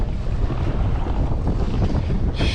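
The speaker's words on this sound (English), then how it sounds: "Sheesh, it's windy." Strong gusts buffet the microphone on a kayak out on choppy water, a continuous loud roar with waves washing beneath it.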